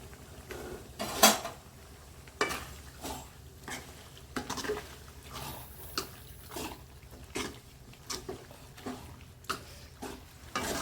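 A spoon clinks and scrapes against a pan while blood and intestine are stir-fried in Kongu style, with soft stirring and light sizzle between the quiet, irregular knocks.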